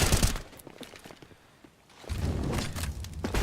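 Bursts of rapid gunfire in a Counter-Strike: Global Offensive match, dense and loud at the start, dropping to scattered footsteps and thuds, then swelling into sustained firing again.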